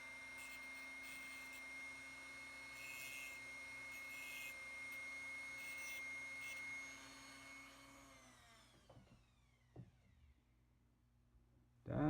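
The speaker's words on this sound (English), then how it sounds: "So then I'll take my Dremel and I'll clean it up." A Dremel rotary tool grinding and smoothing a cut Kato model locomotive frame, a steady high whine for about eight seconds that then cuts off, leaving faint taps and handling noises.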